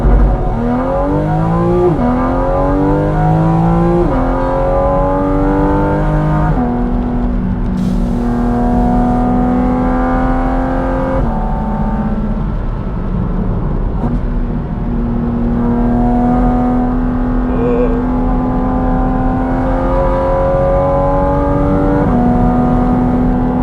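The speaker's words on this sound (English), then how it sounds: "welcome to the Porsche Cayman GT4 RS" A Porsche 718 Cayman GT4 RS engine, driven on a wet road, howls loud and close from inside the car. Revs climb through several quick gear changes, then settle into a sustained steady drone with small shifts in pitch throughout.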